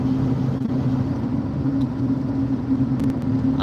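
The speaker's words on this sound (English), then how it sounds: "A lot of cars and shit." Traffic rumbles by in a steady low drone, with cars passing near and continuous engine and road noise filling the short stretch, no one talking.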